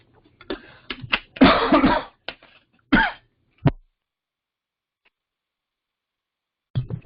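Several harsh coughs in a cluster, then a couple of single coughs, close and loud, followed by silence and one more short cough at the end.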